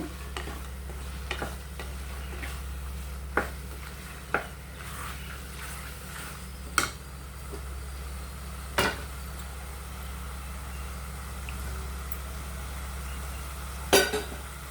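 Mutton being stirred and fried in masala in a pan, a steady low sizzle with occasional sharp scrapes and knocks of the spoon against the vessel, close up, with no talking.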